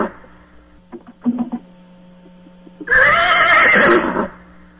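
A horse lets out a loud, close whinny lasting over a second after a few softer snorts and thumps, heard over a low steady electrical hum with no talking.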